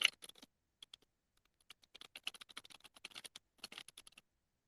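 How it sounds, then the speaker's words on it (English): Quick, irregular keystrokes clatter on a computer keyboard, bursts of fast typing separated by short pauses, close and fairly quiet. "My friends say when I type, it sounds like I'm attacking the keyboard."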